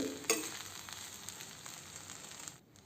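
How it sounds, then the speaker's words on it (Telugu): Tomato pulihora rice is stirred and mixed in a pan, giving a soft scraping sound over a faint sizzle, with one sharp clink near the start. "ఇలా బాగా ఏమీ ఉండలు లేకుండా మిక్స్ చేసేసుకుందాం"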